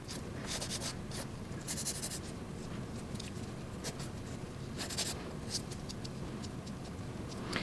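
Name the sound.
nail file filing edges of gel press-on nail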